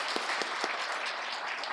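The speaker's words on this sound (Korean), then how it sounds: "우리 박수 한번 치며 환영하도록" A church congregation claps together during a Sunday worship service to welcome a family, a steady wash of applause from many hands lasting a couple of seconds, even and unbroken, with no talking over it.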